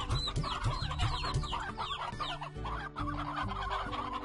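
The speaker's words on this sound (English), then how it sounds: "I need the rooster first." Rooster and chickens in the Slime Rancher video game, a busy run of close, rapid clucks and short squawks overlapping one another with barely a pause.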